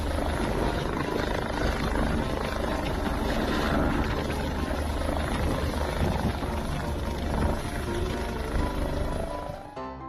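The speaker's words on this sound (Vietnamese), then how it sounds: "Đâm đầu vào núi, nhưng chiếc trực thăng vẫn quay trở ra an toàn" A helicopter close by keeps up a loud, steady rotor and engine roar as it strikes a mountainside and flies back out. The roar stays dense and continuous, then fades at the end.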